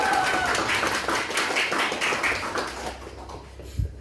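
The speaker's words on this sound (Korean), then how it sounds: "박수로 맞이해 주시기 바랍니다" Audience applause welcomes a student speaker at a Korean speaking contest in Moscow, a burst of clapping that thins and fades over a few seconds to a quiet room.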